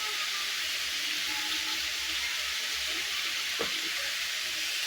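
Bitter gourd and potato fry in an uncovered pan with a steady, loud, close sizzling hiss that carries through without pause and without any talking.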